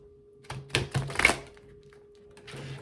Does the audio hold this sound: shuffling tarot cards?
yes